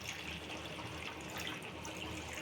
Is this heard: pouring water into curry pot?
yes